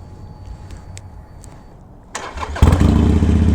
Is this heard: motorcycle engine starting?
yes